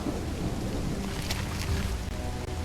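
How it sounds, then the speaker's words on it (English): Heavy rain pours in the video game Call of the Elder Gods, a dense constant hiss of downpour with low rumbling underneath and a few sharper splashes. "It's raining cats and dogs here."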